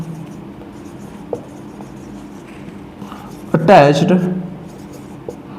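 Marker or chalk scrapes across a board while an organic chemistry lesson goes on, a short squeaky burst of writing mixed in with a teacher's steady explanation.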